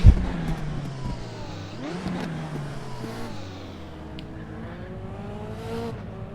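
Race car engines in the RaceRoom racing game at the Falkenberg circuit, revving and accelerating with rising and falling pitch sweeps and gear changes, loud and steady throughout with no talk.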